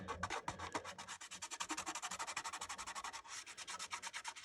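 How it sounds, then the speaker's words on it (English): A finger rubs dried liquid mask off a painted Revell 1/72 Star Wars Razor Crest scale model. It makes a rapid, steady run of close, scratchy rubbing strokes with no talking. "you go along with your finger and you literally just rub away that liquid mask"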